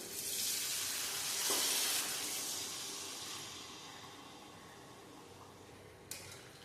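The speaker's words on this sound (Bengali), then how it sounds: "এরপর এতে আমি জল দিয়ে দেব।" Water poured into fried spice paste for a vegetarian dhokar dalna gives a loud, broad sizzling hiss that swells around the middle, then fades to a softer simmer, with a brief clink near the end.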